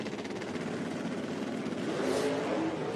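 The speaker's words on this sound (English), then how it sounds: "Wow, the Dodge spun the hoops big." A Dodge drag racing car at an IHRA event at National Trail Raceway spins its tires while the engine revs hard, a dense continuous roar that swells slightly louder toward the end.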